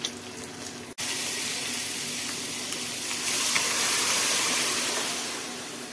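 Dissolved chili powder gravy mixture is poured into a pan, a steady close liquid rush that breaks briefly early on, then swells louder before easing off, with no talking.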